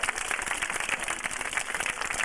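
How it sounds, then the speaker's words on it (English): Audience applause for a volunteer at a sea lion show, a steady rattle of many hands clapping at moderate distance, sustained and even throughout. "How about a big round of applause for our volunteer?"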